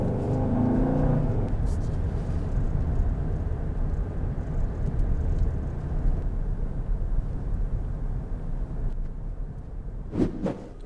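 Steady low rumble of Continental SUV tires on pavement inside a moving vehicle, a constant broadband road roar with a brief brighter noise near the end.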